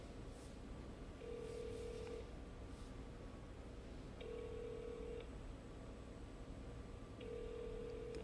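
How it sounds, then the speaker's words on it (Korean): An outgoing phone call rings back with three evenly spaced long tones about three seconds apart, faint and alone over a low steady hiss with no one talking. "네, 전화 지금 걸고 있습니다."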